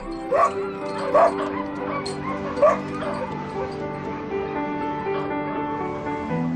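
Dogs near a polar bear give several sharp yips and barks, mixed with whimpering, over a continuous background drone. The barks come in short bursts early on, then fade into softer whines.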